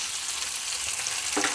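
Tomatoes and a sprig of curry leaves frying in oil in a pan for an anchovy (nethili) fish curry, a steady close sizzle throughout with a brief louder crackle near the end, no voices.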